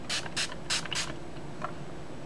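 A facial setting spray pumps out four quick hissing bursts in a steady rhythm, close and crisp, followed by a faint softer puff in an otherwise quiet room.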